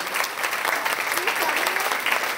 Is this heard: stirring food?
no